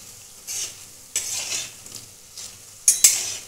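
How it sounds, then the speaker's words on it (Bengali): Lentil rasbora dumplings frying in oil, bursts of crackling sizzle that swell and fade as they are stirred, with a couple of sharp metal scrapes near the end. "একটু লালচে বাদামি করে ভেজে নেব।"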